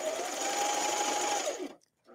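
A sewing machine stitches knit fabric while hemming, running in a loud, steady whir for well over a second before stopping abruptly, followed by a brief quiet pause and a soft restart.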